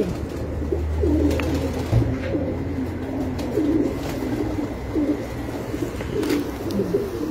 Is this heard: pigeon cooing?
yes